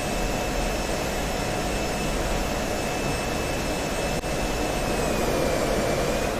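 Steady, loud jet roar of an F-16C rolling at 300 knots and 1000 feet in the DCS World flight game, a constant engine whine with a high tone running throughout, no talk.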